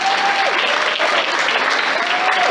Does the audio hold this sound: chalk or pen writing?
no